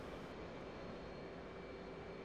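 F/A-18C Hornet jet engine in DCS World spooling up on a carrier deck, a steady loud broadband roar with a faint high whine, continuous and unbroken with no talk.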